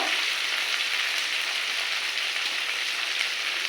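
Chopped tomatoes fry with onions in a pan for a prawn curry, a steady, even sizzling hiss close by with no stirring clatter or voices.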